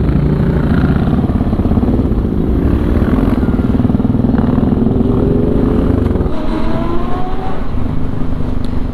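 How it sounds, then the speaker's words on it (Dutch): A long column of about 2000 motorcycles crawls slowly through a Dutch charity rideout, making a dense, unbroken rumble of idling and lightly revving engines, loud and close throughout. "File rijden met 2000 motors."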